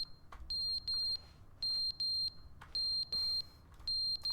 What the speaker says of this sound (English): That's our ringtone.